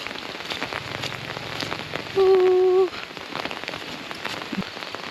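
Steady rain falls on surfaces nearby, a continuous patter of dense drops, broken midway by a brief electronic tone lasting under a second.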